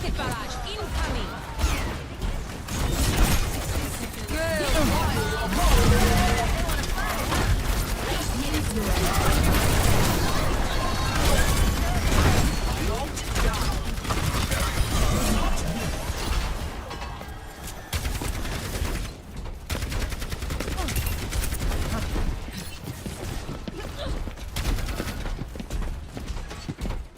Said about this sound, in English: Rocket barrage incoming.